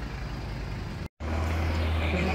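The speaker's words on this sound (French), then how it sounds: "Il y a gagne de voitures qui passent." Dense street traffic in Shibuya, Tokyo, with cars passing: a steady, close roar of engines and tires that drops out for a split second, then returns with a deeper low rumble.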